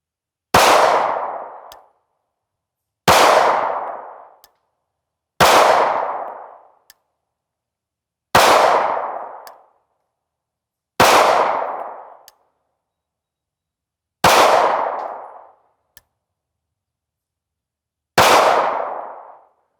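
An IWI Masada pistol fires seven single shots at a slow, fairly even pace, each a loud, sharp crack followed by a short ringing decay and then silence before the next.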